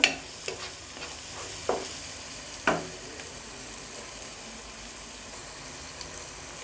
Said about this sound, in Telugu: ఒక 2 మినిట్స్ బాగా ఫ్రై అనేది చేసుకోండి.